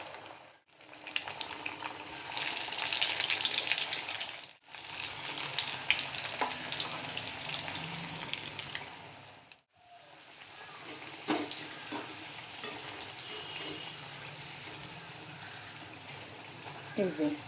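Fish-filled kachoris sizzle steadily in hot oil in a kadai, a loud broad crackling hiss that drops out briefly a few times before resuming.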